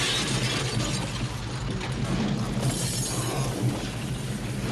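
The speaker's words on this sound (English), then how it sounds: "The house implodes." In the film Poltergeist, the house implodes as a special effect, a sustained dense roar of crashing, splintering and shattering debris that stays loud and steady throughout.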